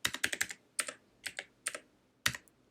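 Quick bursts of keystrokes on a computer keyboard while entering a database table name for a Java programming lesson, clustered clicks in short runs separated by pauses, close and fairly quiet, no speech.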